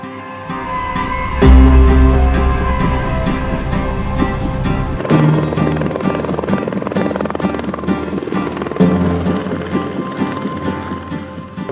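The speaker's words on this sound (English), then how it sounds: "We're doing some helicopter operations, taking loads out to the Bass Rock" A helicopter carrying loads out to the Bass Rock: rotor thumps and turbine roar fill the air, rising suddenly and staying loud and steady with a rhythmic chop.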